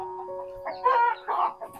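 Chickens cluck in a village house yard in a short, close series of calls with brief pauses between them, over a faint steady hum.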